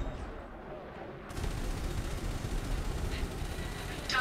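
Spaceship guns firing in Elite: Dangerous, a sustained rumbling barrage of rapid shots that starts abruptly and continues under a voice talking.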